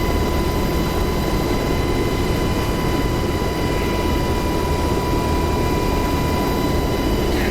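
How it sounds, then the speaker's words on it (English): Two Black Hawk helicopters fly in the DCS World combat flight simulator over the Persian Gulf map, producing a steady, loud, unbroken engine and rotor drone throughout with no talk. "two ship Blackhawks inbound, requesting clearance for landing"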